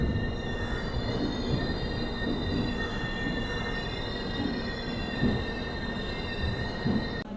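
A Superfast Mail train pulls into a platform at Chennai Central, its wheels squealing in high, sustained tones over a steady rolling rumble, close and continuous, with no talk.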